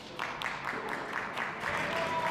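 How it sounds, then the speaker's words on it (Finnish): Spectators applauding both players after a singles tennis match in a league, a short burst of steady clapping from a modest crowd, fairly close and even throughout. "Ja yleisö antaa tunnustusta molemmille pelaajille asiantuntevasti."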